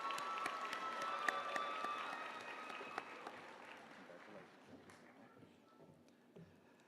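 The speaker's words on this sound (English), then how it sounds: "let's give her another round of applause" A commencement ceremony audience claps for a graduate, with a crisp, dense round of applause at first that gradually thins and fades into scattered claps and room noise.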